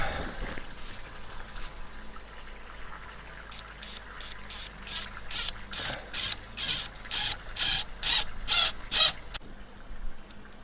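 Screw driven into filter house roofing with a power driver: a rapid run of sharp, rhythmic ratcheting bursts that grow louder over several seconds over a faint background hum, with no talk.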